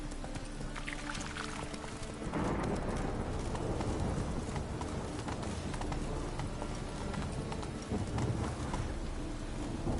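Roach the horse gallops in the Witcher 3 video game, hooves clip-clopping steadily and fairly close. The hoofbeats thicken and grow louder after a quieter start, over a dense wash like rain.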